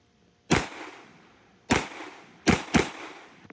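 Four sharp gunshots on a practice shooting stage, fired at targets a few to fifteen yards away, loud and close with ringing decay, a lone shot, a pause, then a quick pair in rapid succession.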